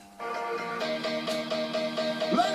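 Music plays from the Amethyst Aiino Oink Oink Music Pig speaker, a small piglet-shaped speaker with a docking station. After a quiet moment, a steady rhythmic tune starts at moderate volume.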